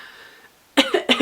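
Two harsh coughs in quick succession, close and loud, following a faint hum and a moment of near silence.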